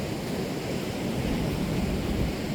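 Seawater pours into a river beside a boardwalk in Baler, Aurora, Philippines, a steady broad rushing wash with a hint of wind and no voices.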